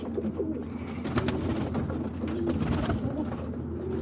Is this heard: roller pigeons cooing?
yes